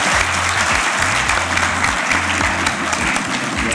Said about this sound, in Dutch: dat is het grootste applaus dat ik ooit in deze zaal heb gekregen